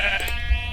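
A single close sheep bleat from Minecraft, a short wavering nasal cry that trails off, heard alone.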